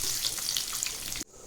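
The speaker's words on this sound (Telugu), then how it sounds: "వేయించుకున్న ఆయిల్లోనే కొంచెం మస్టర్డ్ సీడ్స్, ఆవాలు వేసేసి" Mustard seeds and curry leaves sizzle and crackle in hot oil for peanut chutney, a loud, close, bright hiss with scattered pops that cuts off abruptly near the end.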